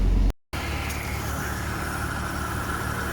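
A car is driven after its power steering fluid has been changed, a steady engine and road rumble inside the cabin that carries on evenly after a brief cut at the start.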